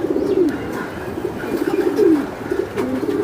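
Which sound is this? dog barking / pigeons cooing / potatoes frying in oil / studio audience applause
pigeons cooing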